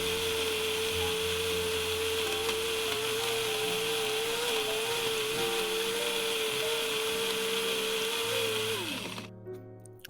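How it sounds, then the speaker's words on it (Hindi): A kitchen blender grinder runs steadily, mixing a banana shake with honey in its jar, a loud continuous motor whir with a steady hum before it winds down and stops near the end. "अब हम इसको क्लोज़ करेंगे और ग्राइंडर को चला लेंगे"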